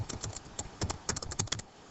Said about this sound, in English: Then you have to type in your password